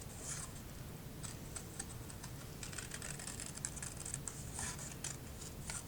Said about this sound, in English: So I'm just cutting around the edge there.